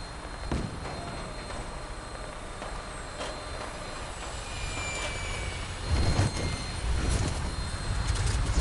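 Fallout 4 aircraft, a vertibird, coming in to land: a steady broadband engine roar and rumble that swells louder near the end, with faint whining tones above.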